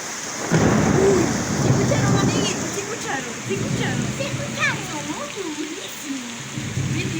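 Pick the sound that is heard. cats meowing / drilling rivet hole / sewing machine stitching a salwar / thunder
thunder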